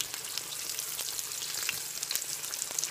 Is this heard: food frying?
yes